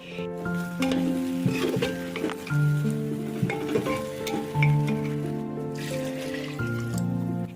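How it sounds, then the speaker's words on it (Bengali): Rice, dalia and moong dal with salt and turmeric are stirred and sautéed in a pan, with continuous soft sizzling, scraping and stirring close up under a steady background hum. "চলো এবারে ভালো করে কষিয়ে নিই"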